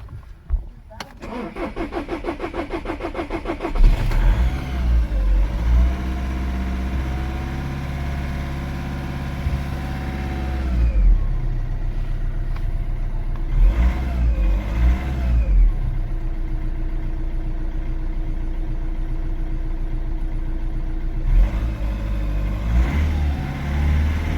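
A Skoda/VW 1.6 TDI diesel engine cranks with a rapid starter whirr, catches and settles into a steady close idle with a couple of brief revs, after a faulty fuel injector was replaced; voices talk over parts of it.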